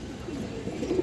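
A red khaki female pigeon gives a soft, low coo near the end of a brief, quiet moment, heard close by with no talk.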